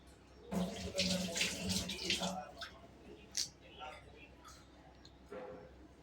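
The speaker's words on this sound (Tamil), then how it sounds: "தாராளமாக தண்ணி ஊற்றிக்கலாம்." Water splashes and pours into a bowl of maida flour for batter, a few short bursts of trickling close by with quieter splashes after, while a person talks over it.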